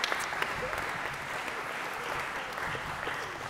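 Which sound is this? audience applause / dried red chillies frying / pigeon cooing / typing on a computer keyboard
audience applause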